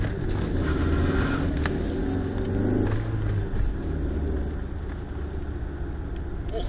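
A BMW E36 318i Touring drives along a course, its mid-range engine humming and rumbling steadily close by, with no voices over it.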